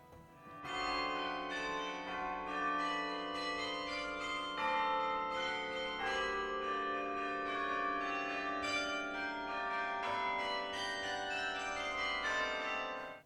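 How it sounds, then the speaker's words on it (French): Carillon bells played from a belfry ring out in a dense run of struck notes, overlapping and sustaining one another, loud and close with no voices. "Il alla s'enfermer dans son beffroi, et se mit à marteler le clavier de son carillon."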